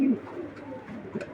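A pigeon kept by a pigeon seller gives a brief low coo up close, followed by soft, faint rustling and murmurs in a quiet setting.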